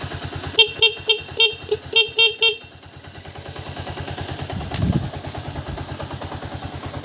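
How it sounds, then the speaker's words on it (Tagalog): Horn on a Suzuki TMX 125 motorcycle sounds in several short, loud beeps in quick succession, then stops while the idling engine keeps putting along steadily underneath. "And then, busina."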